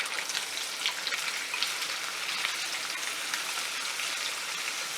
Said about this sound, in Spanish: del aceite en el que freí los chicharrones saqué 2 cucharaditas para sofreír nuestros chorizos